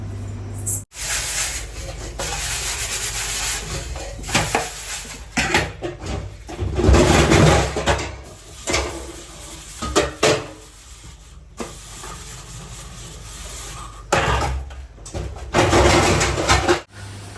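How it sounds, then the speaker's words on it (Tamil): Pots and dishes are scrubbed and rinsed for a long stretch, with running water hissing, rubbing strokes and occasional clanks of metal, close by. "பாத்திரம் ஃபுல்லாக விளக்கிட்டேன்"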